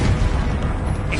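A Confringo fire spell blasts in Hogwarts Legacy, a dense, low booming burst that rumbles steadily through the whole short moment with no quiet gap.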